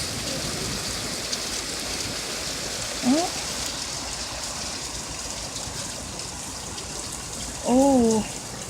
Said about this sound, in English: It's like pouring rain right now